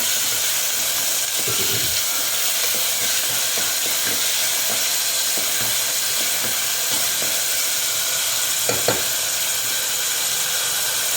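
Tomatoes cooking in a pan for mixed vegetable kurma give off a continuous steamy sizzle, an even broadband hiss with a few faint clinks, moderately loud and close, with no one speaking.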